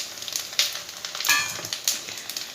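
Spices frying in hot oil in a pan while making mung dal khasta kachori, a steady crackling sizzle with sharper pops and scraping stirs scattered through, close and fairly loud, no talk.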